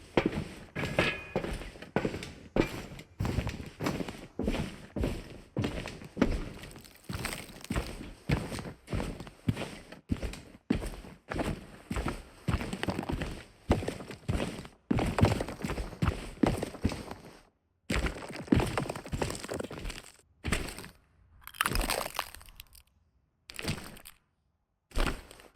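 Footsteps with layered clothing and gear movement in a winter storm scene from an Unreal Engine first-person shooter demo: a steady run of crunchy, thudding steps, close and clear, pausing briefly near the end, with no talk.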